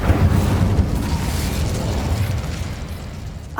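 The Incendio fire spell cast in the video game Hogwarts Legacy, a dense, roaring burst of flame with a heavy low rumble that holds steady and slowly fades, loud and close, with no talking.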